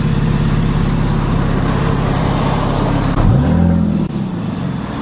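A Porsche 997 MKII Carrera with a SCART exhaust idles outdoors at a loud, steady rumble before a quick rev swells and falls back.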